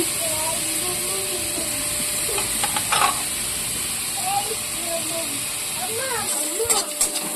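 Spices with ginger-garlic paste and chili hit fried onions in a pan, giving a steady loud sizzle with scraping stirs and a few clinks, while a person talks over it.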